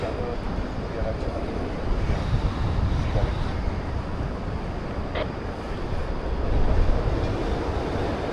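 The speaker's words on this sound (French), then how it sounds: "il y a un petit peu de vent, effectivement, du vent qui vient de face" Steady wind rushes and buffets across the microphone at a paragliding launch site in the Val de Bagnes, Switzerland, a broad continuous roar that swells near the end, with faint voices and background sounds underneath.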